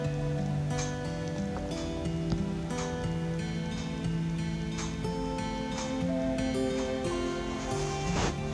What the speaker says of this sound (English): because it just started raining heavily.